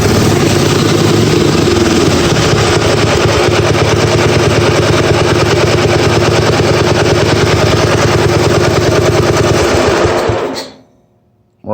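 A Huffy P2 minibike's small engine runs loud and close with a rapid, steady chattering idle for about ten seconds before cutting off abruptly.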